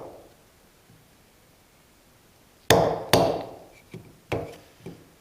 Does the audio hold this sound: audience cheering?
no